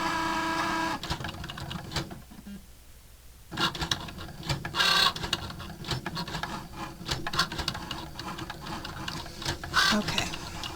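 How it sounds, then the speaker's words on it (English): A Cricut cutting machine writes on card with a pen, giving a close, soft mechanical whirring and patter with short pauses and stops. "Anybody else think watching a Cricut write is so soothing?"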